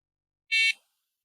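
Single short electronic beep from a carp fishing bite alarm at a lake, sharp and high-pitched, alone against silence.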